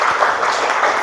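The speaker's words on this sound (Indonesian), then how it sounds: "tepuk tangan untuk kelompok 1 yang pertama kali maju" Applause from a classroom group cheering the first team to come forward, a dense steady patter of clapping lasting about a second without pause.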